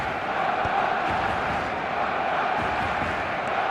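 Steady stadium crowd noise with applause and cheering from an eFootball match, a continuous broadband roar at even loudness throughout, with no distinct voices standing out.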